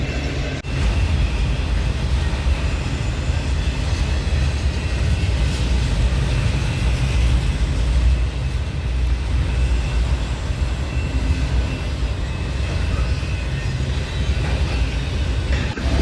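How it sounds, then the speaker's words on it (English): BNSF 7850, a DC ES44 locomotive, leads an eastbound manifest freight through Rochelle, Illinois, with a loud, steady rumble of engine and rolling cars that holds unbroken throughout. "BNSF 7850 was in the lead, knocking down the green with an eastbound manifest"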